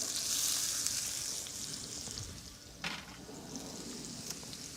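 Red onions frying in oil and butter in a pan, a steady soft sizzle with hiss that eases slightly, then a brief stir or clatter near the end, close and alone.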